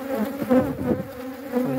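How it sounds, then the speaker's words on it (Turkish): Honey bees swarm and buzz aggressively around a hive on a hot day, a close, loud droning hum with wavering pitch, while a voice says a word briefly. "Havanın sıcak olduğu için arı acayip bir şekilde saldırıyor."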